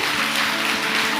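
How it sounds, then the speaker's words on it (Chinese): An audience applauds at a 2019 fan meeting marking forty years of Mao Weitao's Yue opera career, a brief dense burst of steady clapping filling the hall. "我们把掌声送给叶子。"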